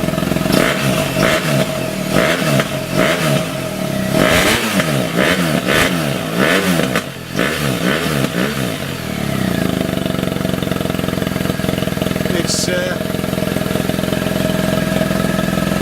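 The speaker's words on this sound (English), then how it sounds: "I can speak to you over the sound of the exhaust" A BMW R1200GS Adventure motorcycle with a Lextek exhaust revs in repeated throttle blips, each rising and falling sharply, then settles into a steady idle for the rest of the clip.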